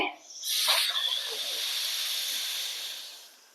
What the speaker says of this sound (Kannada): ಬಾಯನ ಮುಚ್ಚಿ ಮೂಗಿನಿಂದ ಉಸಿರನ್ನ ಹೊರಹಾಕಿ